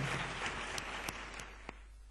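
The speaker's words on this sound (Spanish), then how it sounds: "Un aplauso otra vez para él" Quiet, fading applause from a conference audience, a soft patter of clapping that thins out toward the end.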